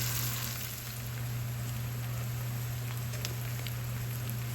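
Onions sizzle in a frying pan, a constant crackling hiss with small pops over a low steady hum, close and fairly quiet, with no talk.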